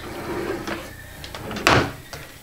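A bathroom vanity drawer slides open or shut in one quick, fairly loud scrape and thump, close by in a quiet room.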